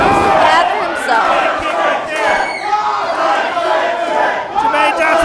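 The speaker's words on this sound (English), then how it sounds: "The crowd is showing his support right now." Loud wrestling crowd at an independent show cheers and roars steadily throughout, a dense wall of voices rising during a match.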